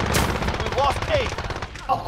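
Game gunfire in Call of Duty: Modern Warfare crackles through a busy multiplayer domination match, with dense shots layered under brief voices and game effects.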